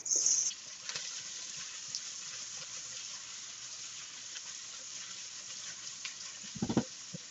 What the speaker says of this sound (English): Then put in your carrots, your onions, and your garlic and start stirring.